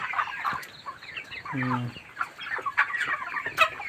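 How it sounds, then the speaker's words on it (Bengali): Broiler chickens cluck and chatter inside a poultry farm shed, a dense, continuous flock murmur with one louder, nearer cluck standing out midway. "মুরগিগুলো মোটামুটি সুস্থ আছে খাওয়া দাওয়া করতেছে"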